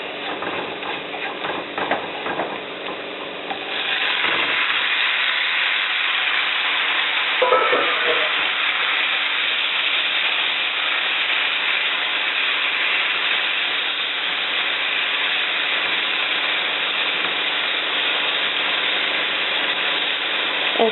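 Tomatoes sauté with a browning garlic mixture in a pan for scrambled eggs with tomatoes: a steady, close sizzle with a few utensil scrapes and stirs near the start, then continuous frying hiss.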